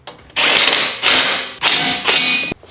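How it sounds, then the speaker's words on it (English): A ratchet wrench tightens bolts during a BMW M5 build. Four loud, close bursts of fast clicking are each separated by a short pause, with no talking. "we're just gonna tighten this down."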